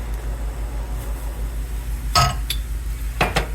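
Tea leaves tipped from a flat teaspoon into a small pot for ginger milk tea, giving a few brief clinks and a light scrape of the spoon against the metal, close and alone over a steady low stove hum.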